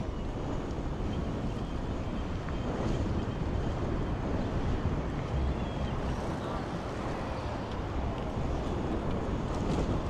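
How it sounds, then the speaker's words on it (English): Wind buffets the microphone steadily on an e-bike ride along a busy Toronto bike trail in the evening, a loud, constant roar with no break throughout. "The wind is back."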